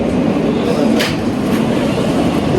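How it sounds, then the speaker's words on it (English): A World Trade Center bound E train on the New York subway rumbles steadily and loudly throughout, a continuous close-up roar of the moving car with a brief hiss partway through. "This is a World Trade Center bound E train."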